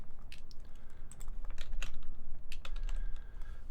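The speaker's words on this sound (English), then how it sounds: "Typed on the wrong keyboard." Computer keyboard typing at a desk, a quick irregular run of close, crisp key clicks and taps with brief pauses, no talking.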